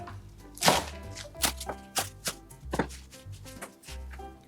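Lettuce being chopped with a knife on a board, a close series of crisp, uneven thunks, about a dozen cuts in four seconds, with no voices.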